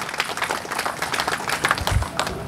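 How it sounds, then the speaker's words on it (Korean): A crowd at a construction workers' union rally and head-shaving ceremony claps vigorously, a thick, continuous patter of many hands at close range. "힘찬 박수 부탁드립니다."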